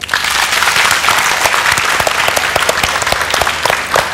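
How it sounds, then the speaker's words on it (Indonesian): A television studio audience at a health talk show claps for a guest, a loud, sustained burst of many hands with sharp individual claps standing out, and no speech over it. "beri tepuk tangan untuk Joe"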